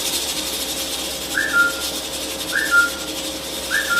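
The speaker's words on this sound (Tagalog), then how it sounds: "pag nag-whistle na po yung ating pressure cooker" Pressure cooker cooking pork hock for pata tim, giving short rising whistles that repeat about once a second over a steady background hiss and hum.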